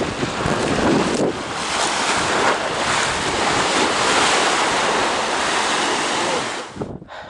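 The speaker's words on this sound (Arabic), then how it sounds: "اليوم في هواء قوي." Strong wind blowing by a lake, a loud continuous roar of gusts buffeting the microphone, steady for several seconds before dropping off at the end, no voices.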